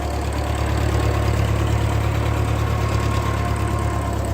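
A 1941 Ford 9N tractor engine runs steadily up close, a loud, even low rumble with a constant idling throb and no voices.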